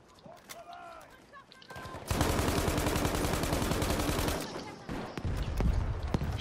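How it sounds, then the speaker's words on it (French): Sustained rapid gunfire in Battlefield 5, loud and dense for several seconds with a brief lull and more shots after, while someone talks over it. "Ils sont en train de tirer"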